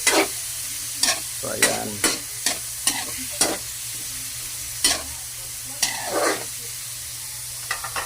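Garlic and onions frying in a pan, a soft steady sizzle with repeated sharp scrapes and taps of a spatula stirring, and someone briefly speaking.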